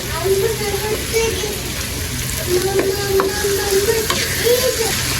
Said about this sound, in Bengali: আমি আমার এই মলা মাছগুলো দিয়ে দিব এই মাছগুলো দিয়েও কিন্তু কিছুক্ষণ কষাবো